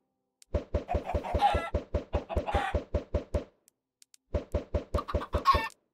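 Minecraft chickens in a pen give a rapid series of short, evenly spaced clucking blips, two bursts separated by a brief pause, fairly loud and without talk.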